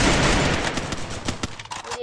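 Dense bursts of automatic gunfire in a shooting video game, loud and continuous rapid volleys with sharp individual shots standing out, tapering off at the end.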